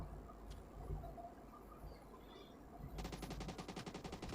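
Automatic gunfire in PUBG Mobile Lite, a dense rapid burst of shots starting partway through and running to the end, loud over a busy game background.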